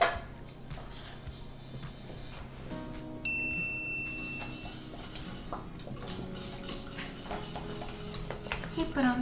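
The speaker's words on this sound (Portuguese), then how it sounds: "e ir sempre mexendo durante mais ou menos 12, 15 minutos" Utensil scraping and clinking in a pot as vegan custard filling is stirred, with lemon peel in the mix; soft steady clatter, irregular and close, under low background noise with no talk.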